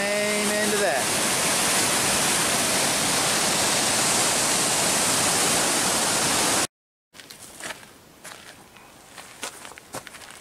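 A waterfall in northeast Tasmanian forest roars loud and steady for several seconds up close, then cuts out, leaving footsteps on a trail and soft ambient noise.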